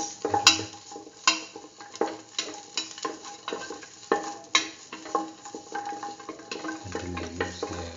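Shallots frying and being stirred in a pot, with a low steady sizzle under repeated scraping and clanking of a spoon against the pot for a lentil pumpkin stew.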